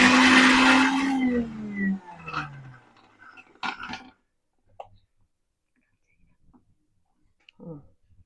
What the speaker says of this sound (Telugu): మిక్సీ జార్లోకి వేసి మిక్సీ పట్టాలి.